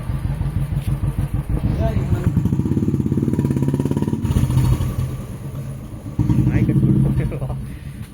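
A parked motorcycle idles on a quiet empty road during a casual outing, its steady engine rumble running throughout with a brief dip in the middle, while people chat over it.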